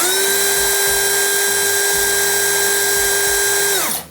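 Dongcheng DCPL208 impact driver running free at top speed, close and loud, a steady high-pitched whine held for about four seconds before winding down.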